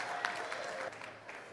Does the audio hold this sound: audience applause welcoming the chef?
yes